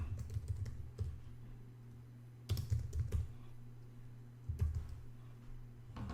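Typing on a computer keyboard while editing text in a graphic design program: bursts of quick, close key clicks in irregular clusters, separated by brief pauses.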